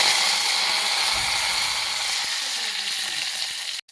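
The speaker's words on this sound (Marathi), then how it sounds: "लसूण भाजला की कढीपत्ता घालायचा" Curry leaves sizzle in hot oil with fried garlic for a Maharashtrian dish, giving a loud, steady hiss close by that fades out at the end.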